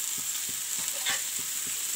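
Mixed vegetable curry frying in a pan, a bright steady sizzle with regular stirring knocks about every third of a second, close and alone.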